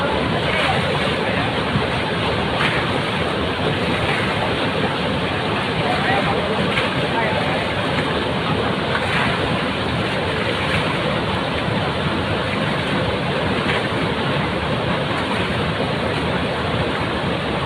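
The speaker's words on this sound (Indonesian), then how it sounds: "Dermaga Pelabuhan Ratu, pakai banjir besar." A flash flood surges across the pier at Pelabuhan Ratu, Sukabumi, a constant, loud, roaring rush of water that fills the scene without a break.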